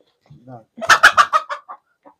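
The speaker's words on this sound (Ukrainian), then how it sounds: "А там он курка сидить" A young laying hen clucks in a quick burst of loud, close clucks that trail off into a few softer ones.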